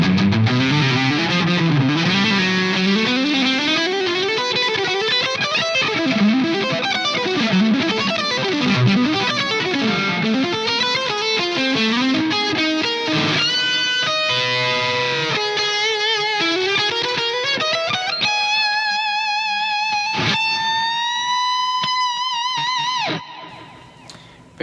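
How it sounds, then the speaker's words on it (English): A heavily distorted Charvel USA Select DK24 electric guitar on the neck pickup plays a fast, smooth, sustained high-gain lead line with bends and held notes, loud and continuous, ending on a ringing chord. "On the neck pickup, this is what it sounds like."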